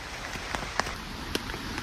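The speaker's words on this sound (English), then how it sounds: "The weather begins to shift slightly with light rain starting to fall." Light rain falls in a forest, pattering steadily as a soft broadband hiss with scattered sharper drops striking nearby surfaces, close and fairly quiet, with no talking.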